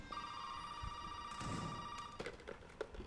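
A telephone rings in the horror video game Resident Evil 7, a sustained electronic ring tone lasting about two seconds, followed by faint clicks and room noise.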